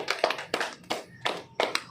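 Sharp, close hand claps from a yoga acupressure routine, about five firm strikes in a steady, evenly spaced rhythm, heard alone without any voices.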